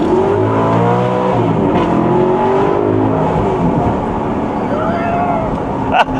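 Alfa Romeo 8C with its V8 engine driving, a loud continuous engine drone with shifting harmonic tones throughout, close and dominant, with a sharp brief knock near the end.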